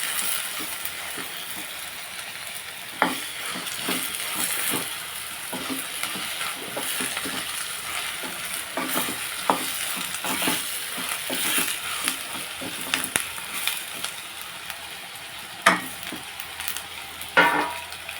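Potato and egg pieces frying in a pan with curry leaves, turmeric and salt, a continuous close sizzle punctuated by scrapes and clinks of a stirring spoon against the pan.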